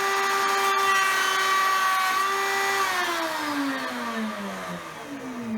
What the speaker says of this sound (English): set up in the router and now time to test cut using a remnant